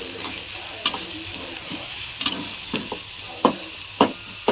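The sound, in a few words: stir-frying spices with cooked onion and tomato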